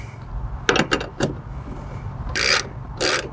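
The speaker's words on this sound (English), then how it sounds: "So I'm just gonna tighten it where it's just barely snug." Bolts on a low-profile box mounting plate are snugged down: a few quick, close metallic ratcheting clicks, a pause, then two short harsh rasping bursts, with no talking.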